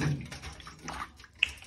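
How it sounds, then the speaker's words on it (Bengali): Water with baking soda stirred in a bowl, making soft sloshing and swirling splashes with a small drip, close and fairly quiet. "কিছুটা খাবার সোডা দিয়ে দিচ্ছি জলেতে, আর খুব ভালো করে মিশিয়ে নিচ্ছি জলের সঙ্গে"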